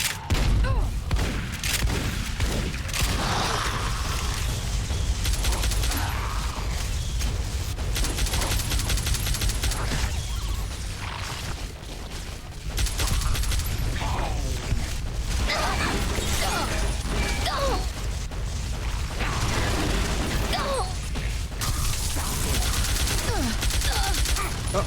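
Turret gunfire in Fallout New Vegas: sustained, dense bursts of rapid automatic shots with booms and mechanical clatter, loud and nearly continuous, briefly easing midway before resuming.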